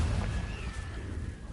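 A Confringo blasting curse explodes in Hogwarts Legacy, a brief muffled boom with a rumbling low body and a faint whistling tone, moderately quiet.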